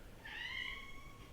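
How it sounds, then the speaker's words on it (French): A house cat lets out a single clear meow, drawn out and falling slightly in pitch, fairly close but soft against a quiet room. "Il y a mon chat qui vient te voir."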